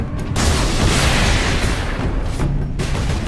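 A loud, sustained explosion in Warhammer 40,000: Space Marine fills the moment with a heavy broadband roar and rumble, close and dominant for about two seconds before easing slightly.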